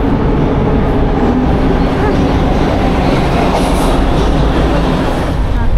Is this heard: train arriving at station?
yes